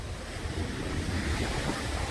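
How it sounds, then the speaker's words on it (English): Ocean waves break against a seawall and wash back out, a steady dense surf roar with some wind buffeting and no speech. "You got a wave hitting up against that retaining wall and coming back out."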